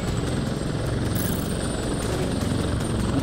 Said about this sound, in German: Hubschrauber ist noch nicht komplett geskillt,